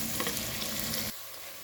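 Onions fry and sizzle in a pan with steady stirring, a dense crackle that runs loud and close for about a second before dropping off sharply to a faint residual hiss.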